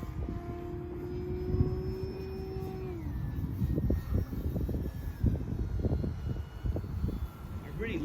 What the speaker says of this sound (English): I really like this plane.